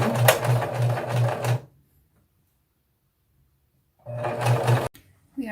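A serger overlocks the raw fabric edge of a trouser piece in two bursts of rapid, steady mechanical whirring, close and loud, separated by a silent pause.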